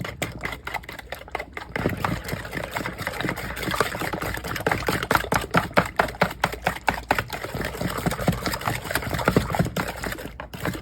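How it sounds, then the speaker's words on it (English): Buttermilk waffle batter with vanilla being stirred together in a bowl: a steady, continuous wet whisking and scraping with rapid rhythmic strokes, fairly close and loud, with no talking. "And we're just gonna mix this all together."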